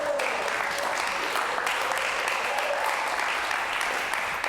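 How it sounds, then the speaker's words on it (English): Audience at a community festival clapping steadily, a dense continuous wash of applause at moderate distance with no speech over it. "Will you give a round of applause to this gentleman here, please?"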